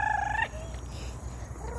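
A turkey gobbles briefly, a short rattling call, then quieter bird calls follow over a low steady background rumble.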